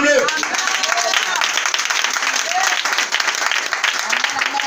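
Church congregation applauding during a French-language sermon, a dense, steady wash of clapping that carries through the whole stretch, with voices and cheers mixed in beneath it.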